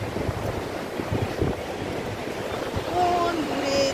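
Sea waves wash onto a beach in a soft, steady roar with gusty wind buffeting the microphone, and people talk nearby.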